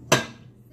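A single sharp clunk as a knife slices margarine into a pan for gravy, followed by a quickly fading ring and a quiet kitchen.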